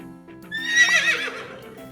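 A horse gives a loud, shrill whinny that rises then trembles down over about a second, close and clear, with low background hum and no talk.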